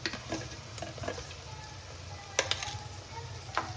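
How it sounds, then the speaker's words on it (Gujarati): Green chillies and onions sizzle in a pan for bhaji, a soft steady frying hiss broken by a few sharp stirring clicks against the pan. "આપણે ડુંગળી લીલા મરચાં 1 થી 2 મિનિટ આપણે થોડું શેકાવા દઈશું"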